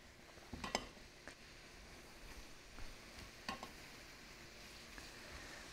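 Leeks being stirred in a pot for a creamy potato leek soup, with a soft, steady sizzle and a few light clinks of a utensil against the pot, quiet and close, with no talking.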